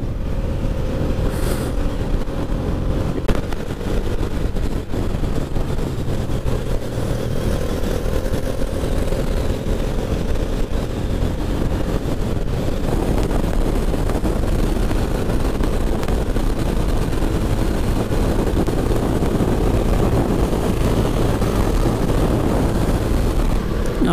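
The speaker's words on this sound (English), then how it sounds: "So right now I'm riding the RC390 of Rahul Allen." A KTM RC390 motorcycle cruises on an open road between Pondicherry and Bangalore, its steady engine drone buried in loud, continuous wind roar and rumble for the whole stretch.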